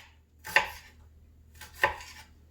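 A knife slicing through an onion on a cutting board, two distinct sharp chops about a second apart, close and crisp in a quiet room.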